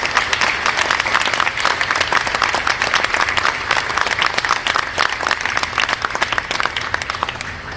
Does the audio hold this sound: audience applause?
yes